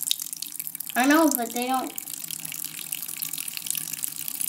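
Tap water pours steadily into a hermit crab's tank with a constant broadband rush that lasts throughout. A person speaks briefly over it near the start.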